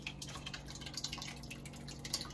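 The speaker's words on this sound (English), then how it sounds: "So I'm gonna just go ahead and pour our tomato sauce in our pan right here." Tomato sauce poured into a pan for a pizza, a soft, irregular run of wet drips and splats, close and fairly quiet, with no talking.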